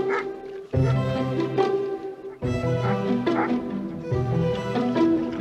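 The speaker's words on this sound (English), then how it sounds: "You can probably hear the dogs behind." Farm guard dogs barking and yelping repeatedly at moderate distance, in uneven bursts with a steady background hum underneath.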